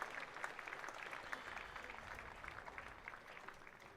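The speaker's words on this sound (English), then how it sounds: "Decent amount of noise from the applause" Spectators at a one-day county cricket match applaud from the stands, a faint, distant patter of scattered hands clapping steadily with no voices over it.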